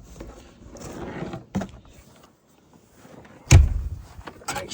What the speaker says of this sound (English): Make sure that door latches.